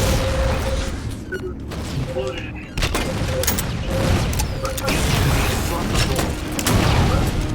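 Gunfire and explosions from the Halo video game, with dense, continuous bursts of shots and booms layered over a loud, busy battle soundscape, with voices talking over it.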